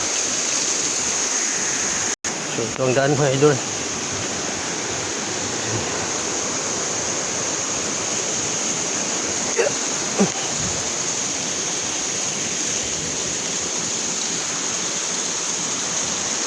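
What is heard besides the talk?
waterfall in a forest after a storm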